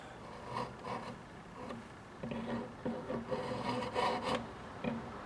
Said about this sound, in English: this is a jeweler saw frame with a hobby hacksaw blade in it